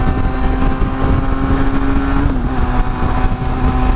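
A Benelli TRK502 motorcycle cruises on the highway, its engine holding a steady mid-pitched drone under loud, constant wind rush, with a slight dip in tone partway through.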